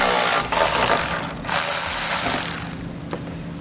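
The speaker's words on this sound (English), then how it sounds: "We'll be using a 10mm socket to remove the bolts." A ratchet with a 10mm socket works loose the washer bottle bolts at the front of a 2015 Kia Soul, giving a steady close-up clicking that runs almost without pause, with a few heavier knocks mixed in.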